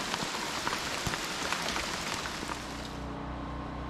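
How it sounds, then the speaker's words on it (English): Steady rain falling on surfaces, a dense continuous patter at moderate level that thins slightly toward the end as a low hum comes in. "It will continue to rain, so we're doing real good."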